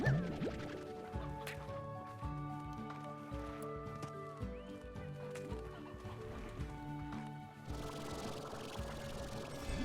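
Video game chickens clucking in Slime Rancher, scattered short clucks and animal calls over layered game music, fairly close and moderately loud.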